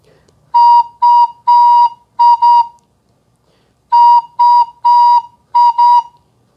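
A flute plays a Christmas melody in two short phrases of clear, sustained notes separated by a pause, loud and close with no voices.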